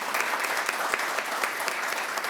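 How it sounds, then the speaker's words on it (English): Dense, even applause from an audience at a village State of the Village event, many hands clapping together at a moderate level for a couple of seconds. "So I want to give them a round of applause and thank them."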